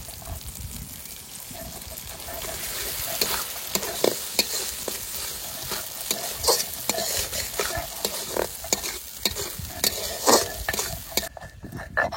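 Spice paste stirred and fried over low heat in a pan, a continuous close sizzle with repeated scraping strokes of a spatula and occasional utensil clinks, no voices.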